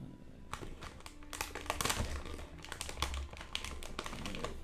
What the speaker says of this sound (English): Stop crinkling the bag of your licorice sweets.